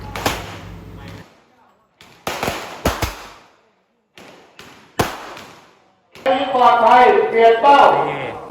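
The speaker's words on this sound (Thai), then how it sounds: "เสียงปืนในสนามนี่ดังมากนะฮะ" Several sharp, loud gunshots crack at uneven intervals at a shooting competition range, each followed by a short echo, then a person speaks loudly near the end.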